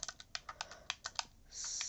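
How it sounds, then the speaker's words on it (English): Rapid clicking of keys as someone types with a game controller on the Nintendo Switch, a quick irregular run of close, crisp taps followed by a steady hiss. "I hate typing on controller on the Switch"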